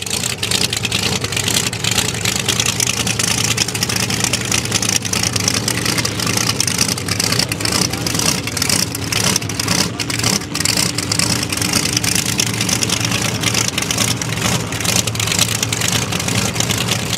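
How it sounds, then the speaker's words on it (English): A mud drag vehicle with a blown 614 cubic inch motor and FTI Powerglide at the 2022 Valemount mud drags roars steadily for the whole stretch, a loud, continuous engine drone with no speech. "Got a 614 cubic inch motor with a blower."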